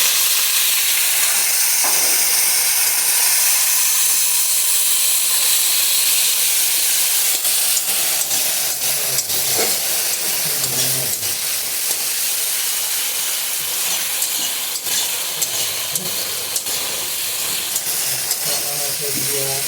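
Ginger, chili and spice paste sauté in a hot pan with a loud, continuous sizzling hiss, and occasional stirring scrapes sound through it.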